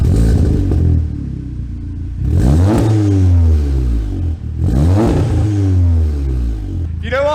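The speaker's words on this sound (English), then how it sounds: "the sounds of the new exhaust system on his Golf" A Volkswagen Golf with a newly fitted exhaust system revs hard twice, each rising blip loud and close before dropping back to a throaty idle rumble.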